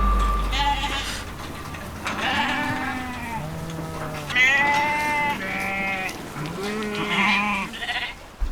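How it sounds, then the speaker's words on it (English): A large flock of about 200 sheep bleating at a watering hole, many overlapping wavering calls near and far, rising and falling continuously throughout. "about 200 sheep show up on the watering hole."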